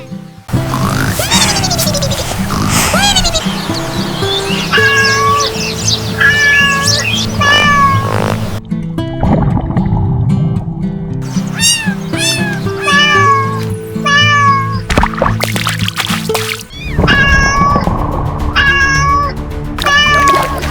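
A kitten in an animated scene meows repeatedly, loud and close, over bouncy cartoon music, with brief pauses and a few grunting noises mixed in.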